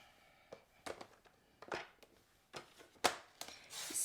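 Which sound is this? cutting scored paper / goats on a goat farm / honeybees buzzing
cutting scored paper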